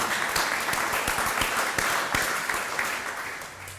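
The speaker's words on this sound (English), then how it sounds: "you can applaud that" Steady applause from an audience fills a Victory Village deed signing ceremony, a full, even patter of many hands with a few louder individual claps.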